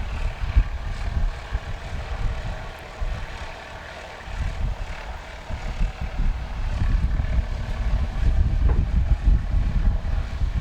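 Heavy wind buffets the microphone with a constant low roar at a small-aircraft STOL practice. A steady engine drone sits underneath, and the gusts swell louder toward the end.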